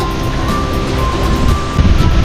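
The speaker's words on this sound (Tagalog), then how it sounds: "malakas pa rin ang hangin" Strong typhoon wind blows steadily outdoors after a storm, with loud, continuous rushing and buffeting against the microphone and a gust swelling near the end; no voices.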